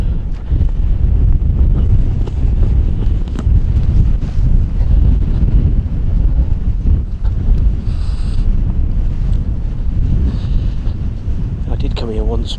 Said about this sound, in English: Bloody hell, that wind is very, very cold.